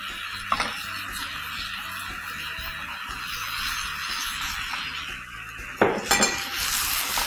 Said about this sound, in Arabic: ادي نقلب كل حاجة مع بعضها